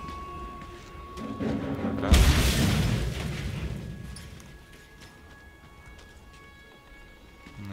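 An explosion in the video game Mad Max hits as a single heavy, booming blast with a deep rumble that swells and slowly fades over several seconds, surrounded by quieter game ambience.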